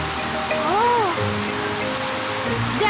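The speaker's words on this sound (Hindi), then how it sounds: "पेपा ने पाइप पकड़ी और डैडी पिग ने पानी शुरू कर दिया।" Water sprays steadily from a garden hose during a car wash in a Peppa Pig cartoon, a continuous hissing patter with a brief rising and falling tone partway through.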